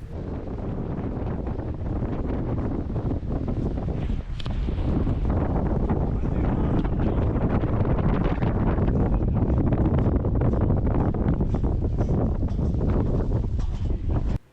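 Strong wind buffets the microphone on a glacier walkway in Patagonia, a loud, continuous rumbling roar with gusty surges that persists throughout before cutting off abruptly.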